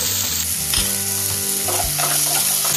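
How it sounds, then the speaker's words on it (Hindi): Roughly chopped tomatoes and a few cashews fry in a pan for paneer angara, a loud dense sizzle filling the short moment, with tonal hum and some shifting layers beneath, no voices present. "फिर डालेंगे 2 मीडियम साइज के टमाटर, जिसे मैंने रफली चॉप कर लिया है। उसके बाद डालेंगे थोड़े से काजू,"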